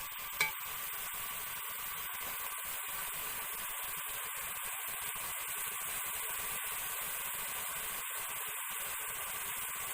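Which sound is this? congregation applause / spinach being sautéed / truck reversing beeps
spinach being sautéed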